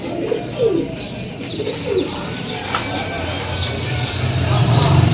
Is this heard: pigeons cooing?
yes